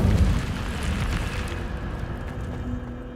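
Incendio, the fire spell in Hogwarts Legacy, goes off as a short, loud whooshing burst of flame that fades over about three seconds.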